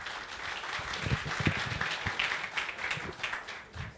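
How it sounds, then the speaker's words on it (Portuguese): Moderate audience applause at an innovation morning event in a lecture setting, a few seconds of dense, uneven clapping with some individual claps standing out. "A quem eu também peço uma salva de palmas."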